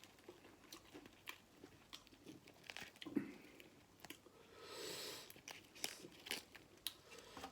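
Soft, close chewing and crunching of pork larb with sticky rice, quiet wet bites and mastication at an irregular pace, no talking.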